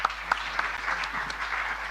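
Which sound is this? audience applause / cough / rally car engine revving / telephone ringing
audience applause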